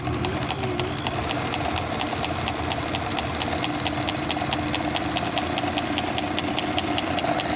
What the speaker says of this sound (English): Okay, and let's put it on the smocking stitch.